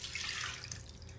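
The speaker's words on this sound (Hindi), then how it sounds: "इसको एक बर्तन में छलनी के अंदर निकाल लें, जिससे कि इसका एक्सेस पानी नीचे निकल जाए" Excess water drains and drips from washed poha sitting in a strainer over a vessel, a soft, steady trickling hiss close by, with no voices.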